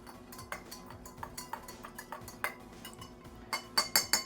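A spoon stirs table salt into a glass of cool water, tapping and clinking against the glass in a steady, fairly quiet rhythm that grows a little louder and sharper toward the end, with no talk.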